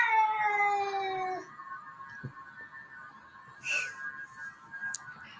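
Siamese cat screaming in long, drawn-out wailing yowls that slide downward in pitch, fairly faint, followed by shorter sharp cries and scattered clicks.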